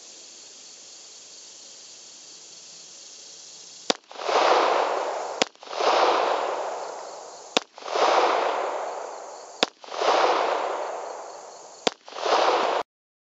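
A Springfield XDM in .40 S&W fitted with a weapon light fires six sharp pistol shots at an even pace, each crack followed by a loud, decaying rush, over a faint background hiss.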